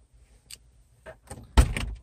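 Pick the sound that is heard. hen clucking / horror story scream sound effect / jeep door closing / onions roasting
jeep door closing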